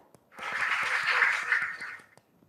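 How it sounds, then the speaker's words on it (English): Brief audience applause at a school quiz contest for Dunwell Methodist Academy, a burst of clapping that swells for about two seconds and fades, with a voice speaking before and after. "Please clap for them."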